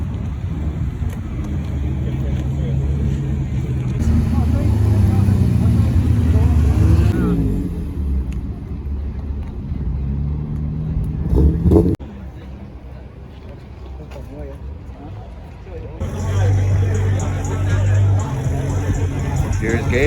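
A BMW E46 M3 fitted with a Bimmerworld track exhaust revs and idles at a car gathering, its loud, rasping engine note rising and falling near the microphone, with people talking and wind buffeting in between.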